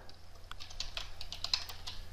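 Quick, steady typing on a computer keyboard, a run of light, close key clicks at an even pace with no talking.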